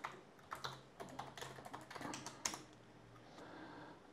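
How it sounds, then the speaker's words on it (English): Login credentials typed on a computer keyboard, with quick irregular key clicks in short bursts, fairly quiet and close, with no talking. "Here I type my credentials."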